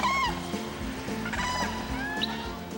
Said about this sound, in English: The bird gets its name from its trumpeting cries.